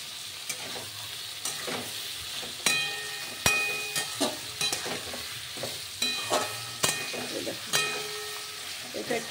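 Onions with a little salt fry in a pan for a Sunday mutton dish, a steady sizzle broken by repeated spoon scrapes and clinks of stirring, close and fairly loud with no talk.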